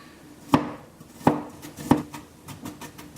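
A knife chopping garlic on a cutting board for a quinoa, kale and avocado salad: three sharp, evenly spaced thuds followed by quicker, lighter taps, close and alone.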